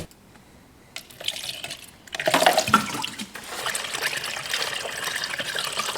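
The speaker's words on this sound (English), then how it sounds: "I'm gonna go ahead and fill our expansion tank up with some new coolant and power steering fluid" New coolant is poured into a car's expansion tank in a home garage, a quiet start giving way to a close gurgling, trickling pour that rises and then continues steadily.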